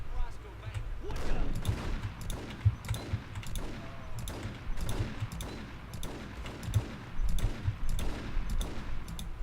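Gunfire in the PC game Max Payne, a fast series of sharp shots and bursts repeating at roughly even intervals for the whole stretch, with someone talking over the action.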